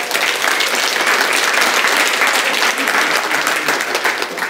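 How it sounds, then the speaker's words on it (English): An audience at a business seminar applauds for Tom Ziglar, dense sustained clapping from a full room that holds steady for several seconds. "Give him a big hand clap."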